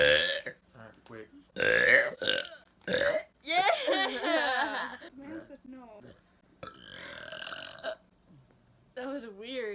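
Loud, drawn-out burps from a young man, two distinct belches among bursts of close talking and a laugh.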